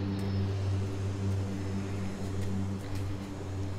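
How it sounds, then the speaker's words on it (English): Seaplane taking off at Lake Union Park in Seattle, a steady propeller engine drone with a low, even hum that holds throughout at moderate distance, no voices over it. "there was a seaplane about to take off"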